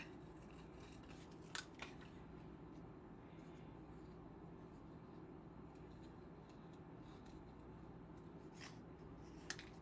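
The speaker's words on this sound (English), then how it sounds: "I'm gonna cut that off because I cut those leaves off." Scissors cut paper for card making, giving a few faint, crisp snips: two close together near the start and another near the end, over a quiet room background.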